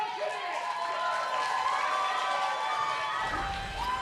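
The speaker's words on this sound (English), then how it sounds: "don't know if you can hear the crowd, but I sure can, and they're going nuts" Loud, sustained crowd cheering and clapping at a robot combat world championship after a beetleweight fight ends, a continuous roar of many voices with commentary mixed in.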